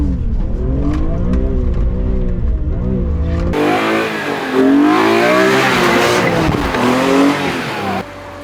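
A BMW E46 M3 revving hard while doing donuts: a loud, close engine rising and falling through repeated revs, then a harsher, brighter section of wailing revs with tyre noise before it cuts back.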